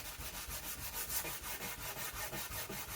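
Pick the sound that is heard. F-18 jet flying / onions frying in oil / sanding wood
sanding wood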